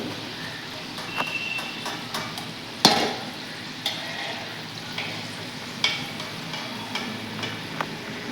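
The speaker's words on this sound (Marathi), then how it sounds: "आता याच पद्धतीने मी इतर समोसे देखील तळून घेते" Samosas fry in hot oil with a steady background sizzle, broken by occasional sharp clinks and pops of a utensil against the pan.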